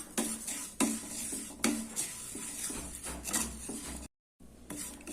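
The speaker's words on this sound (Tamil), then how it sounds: "அதை போட்டு நல்லா கோல்டன் ப்ரௌன் அளவுக்கு வறுத்து எடுத்துக்கலாம்" Vermicelli roasting in ghee in a pan, with repeated sharp scraping and stirring strokes of a utensil against the metal over a steady frying sizzle, close and fairly loud, with a brief silent gap near the end.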